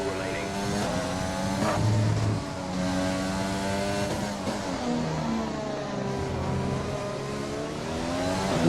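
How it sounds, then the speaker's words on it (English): Honda Formula 1 race car engine in the F1 2020 video game, revving loud and close with rising and falling pitch sweeps through gear changes, a brief dip under braking, then building again. "And a nice Honda engine purr in there."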